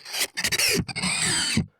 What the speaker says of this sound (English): And then we'll sand this part.